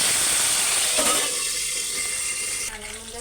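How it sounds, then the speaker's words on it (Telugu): Green chilies frying in hot oil make a loud, bright, continuous hiss and sizzle that eases slightly toward the end. "నూనె కాగింది ఫ్రెండ్స్ పచ్చిమిరకాయలు వేసుకున్నాం"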